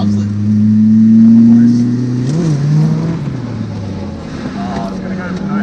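Turbocharged 4AGE drift car engine revs loudly up and down on a wet street, a steady droning tone rising and falling over several seconds while people talk over it.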